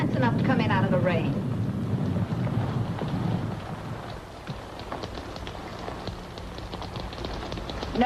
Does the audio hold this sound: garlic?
no